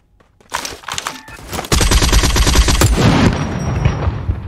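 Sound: gunfire in the video game Badlanders

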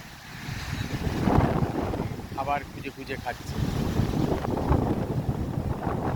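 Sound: strong wind on the Lake Michigan shore

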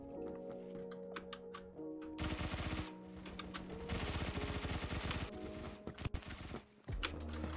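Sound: 10mm SMG firing in the video game Phantom Forces

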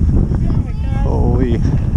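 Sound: wind

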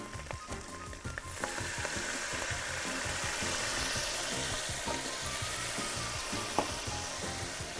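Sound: vinegar and garlic tarka sizzling in hot oil

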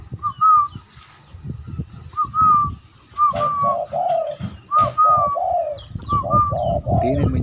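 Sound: pet dove cooing

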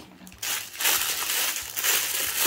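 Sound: crinkling plastic packaging bags being unwrapped

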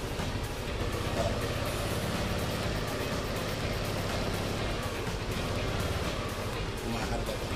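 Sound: car engine being revved during tune-up check

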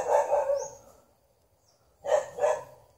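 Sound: dogs barking

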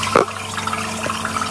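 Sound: water running down an overflow from a non-electric pump

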